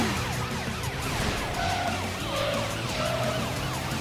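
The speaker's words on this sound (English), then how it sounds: "Matt, the police car is right behind him." Cartoon police car siren wailing in repeated rising and falling sweeps over car engine noise and tire skids in a children's tow truck animation, loud and close.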